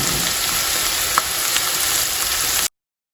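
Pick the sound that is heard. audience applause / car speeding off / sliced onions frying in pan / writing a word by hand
sliced onions frying in pan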